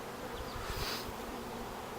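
Honeybees from a package of bees being installed into a hive drone in a dense, steady buzz, close and fairly loud, with no voices over it.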